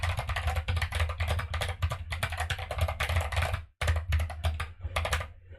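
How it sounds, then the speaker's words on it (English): Mechanical keyboard fitted with Neapolitan ice cream switches typed in fast bursts of clacky keystrokes, close and loud, with a short pause near the end before typing resumes. "when you hear my board when I'm typing"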